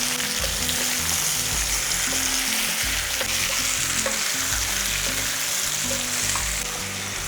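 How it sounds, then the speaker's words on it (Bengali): Spiced ash gourd pieces stirred and fried in a pan over high flame: a loud, continuous close sizzle with repeated scraping strokes of the spatula, no talking. "এরপর একটু ফ্লেমটাকে হাইতে রেখে এটাকে একটু নাড়াচাড়া করে ভাজা ভাজা করে নেব।"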